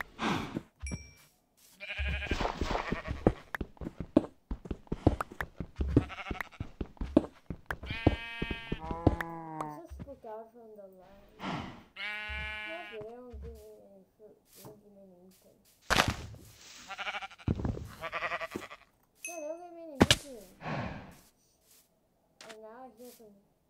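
Minecraft sheep bleat in several wavering, nasal calls scattered across the stretch, close and fairly clear, with short clicks and bursts of game noise in between.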